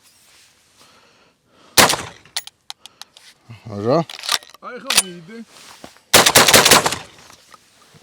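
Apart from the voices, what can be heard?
Akdas pneumatic tool firing shots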